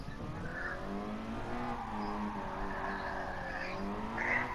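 Race car in the Gran Turismo Sport racing game, its engine holding a steady harmonic drone with rising and falling pitch and tire squeal mixed in, loud and continuous without speech.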